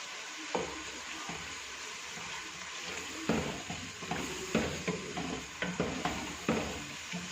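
Chicken handi, dhaba style with mint, is stirred in an oily pot, sizzling steadily while a spoon scrapes and knocks against the metal in uneven strokes, close and fairly quiet, with no speech.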